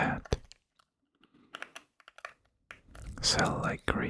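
Keystrokes on a Wooting 60HE keyboard come in short scattered bursts of crisp clicks, close and quiet, alternating with soft whispered speech.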